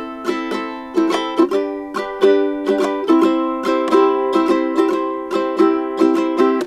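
A ukulele strums a three-chord pattern in a steady, bright rhythmic groove, close and clear with no voices.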